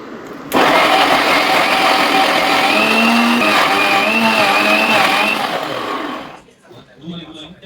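Mixer grinder with a juicer jar blending ingredients for a healthy drink, a loud, steady whirring motor that starts abruptly, runs for several seconds with shifting pitch, then cuts off into quiet room sound.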